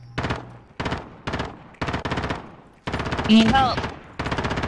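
Bursts of rapid automatic gunfire in a multiplayer video game, coming in several separate volleys with short pauses between them, loud and close, while players talk over the shooting.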